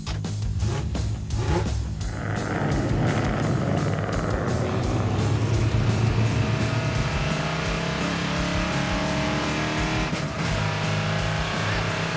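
A Mercury Cougar, its whole body vibrating through the driveshaft, driving on a road trip: a loud, steady engine drone with a harmonic hum that rises and falls slightly as the car moves along.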